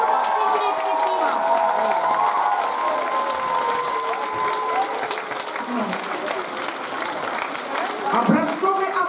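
An audience at a festival gala concert bursts into sustained applause, a dense steady clatter of many hands with a few cheers rising near the end.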